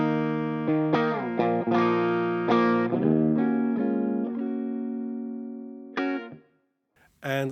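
A clean electric guitar tone with no distortion box engaged, loud sustained notes and chords ringing out one after another, fading slowly before a couple of brief final strums.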